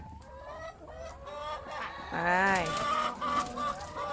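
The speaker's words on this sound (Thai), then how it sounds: "อุ้ยไก่เยอะแยะเลย" Many chickens cluck and call close by on a ginger farm in Chiang Mai, a busy continuous chorus with a brief louder burst midway and short speech at the start.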